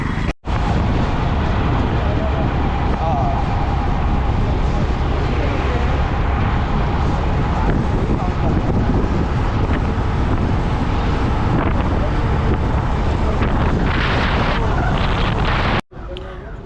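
Wind roars into the microphone on a boat ride to Karanja jetty, a loud, continuous buffeting rush under the boat's noise, steady throughout with a brief cut near the end.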